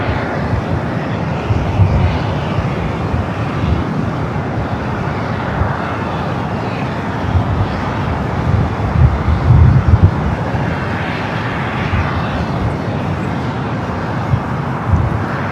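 Spirit Airlines Airbus A320 jet at Los Angeles airport, a steady broadband engine roar holding for the whole stretch, with swells of louder rumble around the middle, close and strong with gusty wind on the microphone.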